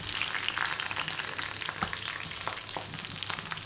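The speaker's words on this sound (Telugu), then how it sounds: "ఆయిల్లో వేసి ఫ్రై చేసుకుందాం" Ten to twelve green chillies fry in oil for dondakaya chutney, giving a close, continuous crackling sizzle with scattered sharper pops and an occasional stir, with no speech.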